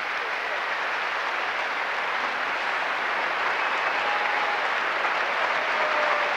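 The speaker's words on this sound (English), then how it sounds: "it calls for yet another acknowledgement of that applause" Sustained, dense applause from a large crowd filling a big sports hall in Budapest, steady and loud throughout.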